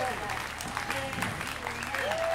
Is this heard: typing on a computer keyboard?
no